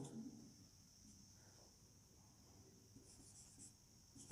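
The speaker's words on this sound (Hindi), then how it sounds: "देखिए, सेंटेंस लिख रहा हूं मैं" Chalk or marker scratches across a board as a sentence is written, a faint, continuous scraping with soft strokes, quiet and close, with no talk.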